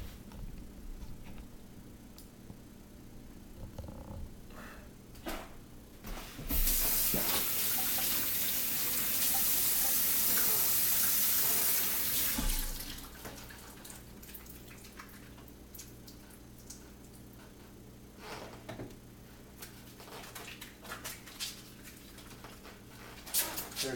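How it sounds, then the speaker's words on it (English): Water running from a kitchen tap while hands are washed during pomegranate preparation, a steady rushing flow lasting about six seconds midway, with quieter kitchen clatter before and after. "I gotta wash my hands real quick."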